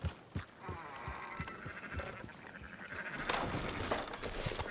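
Several sheep bleat in quick succession in Red Dead Redemption 2 over a busy background of rustling and clatter, the calls rising and overlapping toward the end.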